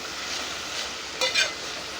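Broad beans frying and being stirred in a pan for a bean and tomato curry, a steady soft sizzle with a brief louder scrape of the spoon near the end.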